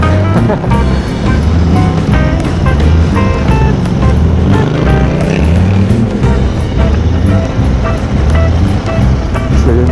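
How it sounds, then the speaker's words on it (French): A Royal Enfield Interceptor motorcycle crawling through a traffic jam, its engine droning loudly and steadily up close with heavy wind buffeting, and faint speech under the noise. "Il y a des bouchons en moto, c'est quand même le comble, être dans les bouchons"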